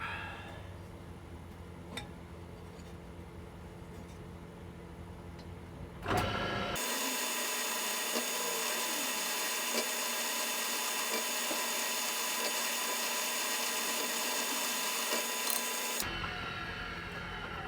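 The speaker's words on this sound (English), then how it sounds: "I'll get on drilling the holes now" A drill bores marker-dot holes into the fretboard of a handmade lyre mandolin, a steady loud whirring that starts abruptly and runs for about ten seconds before stopping, with quieter workshop ambience before and after.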